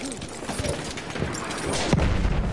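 Cannon fire and battlefield gunfire from the game Battlefield 1 crackle and boom in a busy burst, with a heavier blast near the end under constant battle noise.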